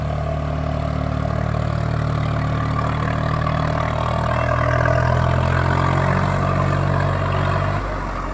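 A farm tractor's diesel engine runs steadily nearby in the fields, a loud, low rumbling drone that continues unbroken and alone.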